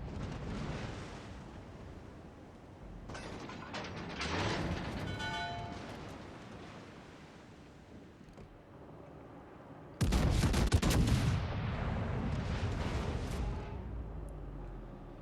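Battleship guns firing shells in a naval video game, with rolling booming blasts and rumbling echoes, a sharp new salvo about two-thirds through, loud and layered with game noise.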